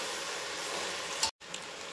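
Tomato and green chili hit hot oil in a pan, giving a bright, steady sizzle of frying vegetables, with a brief clatter and a short cut in the sound before the sizzling resumes.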